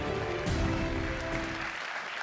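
A crowd claps and cheers in a continuous wash of applause that slowly fades, with a voice faintly audible underneath.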